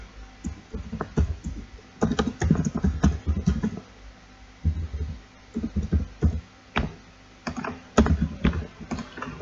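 Typing a sentence on a computer keyboard in the ArmA 3 editor: bursts of quick, close key clicks in uneven runs separated by short pauses, with no talking.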